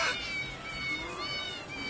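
Cats meowing in the video game Yakuza Kiwami: a clear, close, drawn-out feline cry with wavering pitch over a soft background hum.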